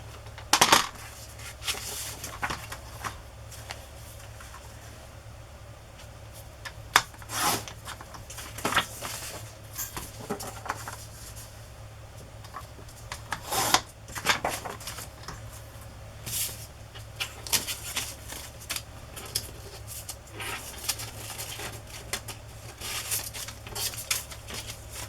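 Paper pages being cut for ephemera crafts: a string of crisp snips and rustling slices at close range, with brief sharp clicks scattered through a steady low hum.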